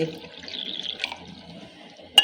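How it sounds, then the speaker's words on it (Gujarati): Water poured into a small bowl while making lapsi in a home kitchen, a soft steady trickle running for about two seconds and ending with a brief splash, close and faint with no voices. "આપણે વાટીઓ ભરીને પાણી લેવાના છે"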